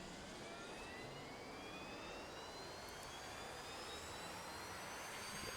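A UH-60L helicopter APU in a flight simulator game spools up, a steady loud broadband turbine roar with rising whine tones climbing throughout, constant and close with no talk over it.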